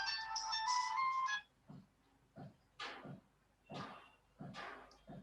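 A phone rings with an incoming call from a college, a bright electronic ringtone lasting about a second and a half, followed by several short knocks or handling bumps in a quiet room.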